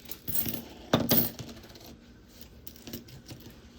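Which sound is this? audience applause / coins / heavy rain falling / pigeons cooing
coins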